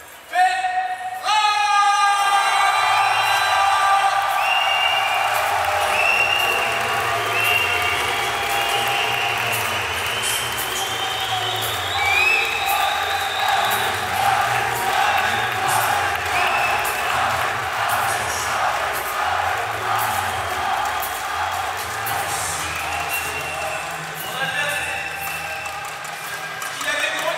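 A crowd in a hall at a French jiu-jitsu Pro League event cheers and applauds loudly and steadily as a fighter enters, a dense roar with rhythmic thumping beneath it.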